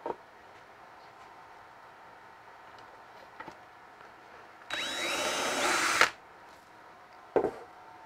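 A power drill whirs in one steady burst of about a second and a half, drilling screw holes for a printer cabinet build in a quiet room, followed later by a brief second spin.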